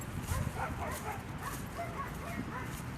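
Small pet dogs yipping and whimpering in a steady run of short, excited calls, fairly close, with a voice murmuring faintly underneath.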